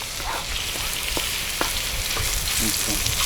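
Onion fries on a sadj outdoors, a steady dense sizzle and crackle with occasional stirring clicks and pops throughout, loud and continuous with no talk.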